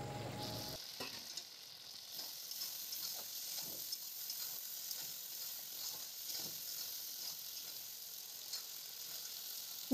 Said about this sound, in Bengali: আবারও আমরা মাংসটিকে খুব সুন্দর করে কষাবো